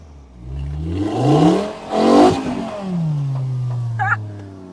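A Mk2 Golf GTI with a swapped-in five-cylinder engine revs up and down in loud, sweeping surges, its pitch climbing and falling twice before settling into a steady drone.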